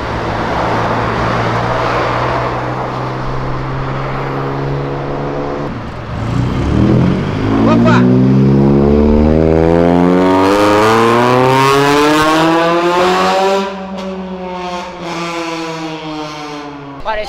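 A rare Lamborghini sports car idles, then its engine revs hard and climbs through a gear change into a loud, sustained acceleration roar before easing off, heard up close and dominating any voices.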